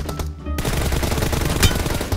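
Rapid automatic gunfire rattles in a shooting video game, a dense burst of close, loud shots running almost continuously after a brief gap at the start.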